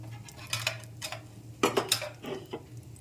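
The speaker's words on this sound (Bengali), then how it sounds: "ফোড়নটাকে একটু নেড়েচেড়ে ভেজে নিচ্ছি" Whole spices (bay leaf, cinnamon, dried red chili, cardamom, cumin) being stirred in hot oil for a vegetarian potato dish, with repeated close scraping and clinking of a spoon against the pan over a low hum.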